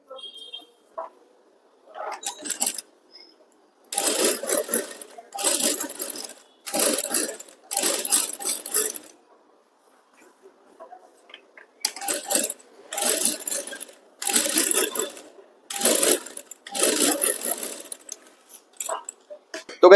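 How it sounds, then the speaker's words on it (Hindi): A sewing machine stitches a blouse seam in short bursts of fast whirring, close by, stopping and starting repeatedly with a longer pause midway. "उसके बाद यहाँ पर सिलाई लगानी है।"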